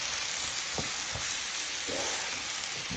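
Metal spatula chopping meat on a hot griddle for a chopped cheese, a few sharp scraping knocks spaced over a constant loud sizzle of frying.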